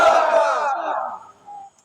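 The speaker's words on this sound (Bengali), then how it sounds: "আল্লাহর কোরআনের জন্য দেন তো ময়দানের একটা তাকবীর শুনতে চাই" A large crowd at an outdoor religious gathering roars a takbir in unison, one loud, close collective shout that swells and fades, followed by a brief trailing voice.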